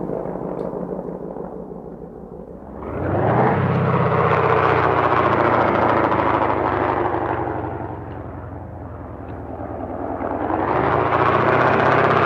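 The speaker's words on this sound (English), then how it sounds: "Oh, that's the plane flying." An airplane flies overhead in a video game: a deep, loud roar swells in, holds, dips briefly, then surges again, heard alone with no talk.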